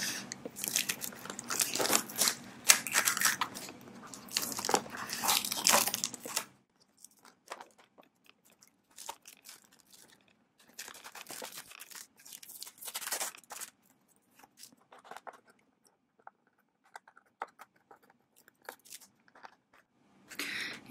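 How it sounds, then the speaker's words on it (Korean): Tearing and crinkling plastic tape packaging away from a silver play button box, with bursts of crackly ripping and crunching separated by quieter pauses, close up with no talking. "뜯어볼게요."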